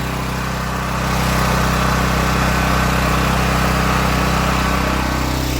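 A small pressure washer engine drones steadily and loudly up close, its noisy hum rising slightly in the first second, then holding constant throughout.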